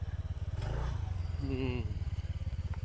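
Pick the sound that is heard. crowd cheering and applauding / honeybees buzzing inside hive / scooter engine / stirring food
scooter engine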